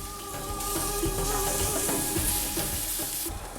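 Onions, ginger and cumin seeds sizzle steadily in olive oil over medium-high heat, a close, continuous crackle with soft stirring and no voices.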